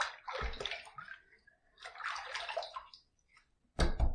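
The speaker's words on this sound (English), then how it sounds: "let me just throw some water up there" Water splashed by hand onto a head being shaved: two bursts of wet splashing and sloshing about a second apart, then a quieter pause and a final sharp splash, all close up.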